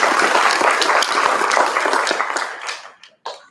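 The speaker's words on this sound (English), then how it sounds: "Round of applause." Applause from the audience at a county spelling bee, a dense burst of many hands clapping that thins out toward the end, breaks off for a moment, then gives one last brief flurry.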